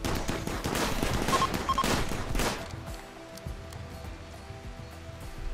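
A RimWorld firefight with grenades thrown at raiders: dense, loud bursts of rapid gunfire and blasts fill the first half, then thin out to scattered quieter pops and a low rumble.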